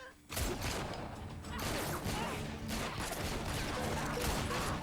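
A chaotic TV western shootout with gunfire, crashes and clatter blending into a continuous dense roar, fairly quiet overall.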